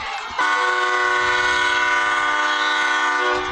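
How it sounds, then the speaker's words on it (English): A train whistle at a high school football game sounds a long, steady, loud blast, its layered tones holding for about three seconds before cutting off. "you hear the train whistle again"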